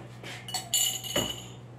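Drinking glass clinking as it is picked up, several light glassy taps and knocks scattered over a couple of seconds, close and fairly soft with no voices.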